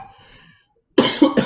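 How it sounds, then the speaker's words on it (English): Two or three sharp, close coughs burst out after a quiet pause, following faint low murmuring at the start. "God, what an annoying cough."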